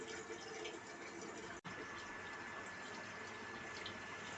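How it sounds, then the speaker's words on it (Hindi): Tap water pours steadily into a jug in a home kitchen, a close, continuous rushing stream with one brief break partway through. "आप ये जग भर दो बाबा का।"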